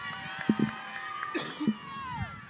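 At a youth basketball event, crowd shouts and whoops rise for the boys team, a bright layered cheer over scattered thumps and footfalls, moderately loud and slowly fading.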